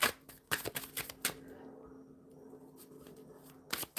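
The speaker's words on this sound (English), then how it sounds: "All right, shuffling for the collective spirit." Tarot cards being shuffled by hand, a run of quick crisp riffles and bursts at the start with a louder flurry at the end, close and dry with a quieter stretch of soft handling between.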